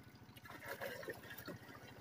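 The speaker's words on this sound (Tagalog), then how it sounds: "Kasi yung tubig po natin dyan ay bukal yan." Spring water trickles and splashes steadily from a natural spring, a continuous close wash of running liquid with no voices.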